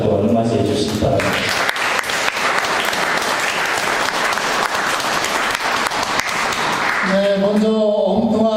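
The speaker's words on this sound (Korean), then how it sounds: "이 강연을 뜨거운 박수로 다시 한번 맞이해 주시기 바랍니다." An audience at a Korean lecture performance breaks into loud, sustained applause lasting about six seconds, with a voice speaking just before and after it.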